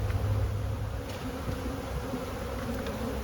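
Honey bees drone steadily around a newly set-up hive during a colony split, a dense, even buzz close by with no break.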